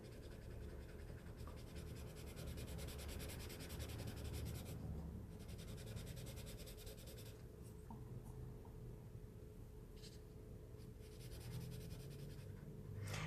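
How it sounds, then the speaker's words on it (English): Colored pencil rubbing steadily across paper as dark and medium shades are blended, a continuous quiet scratchy scraping with fine texture, close and alone without talk, from grayscale coloring work. "So now we're blending the dark and the medium together."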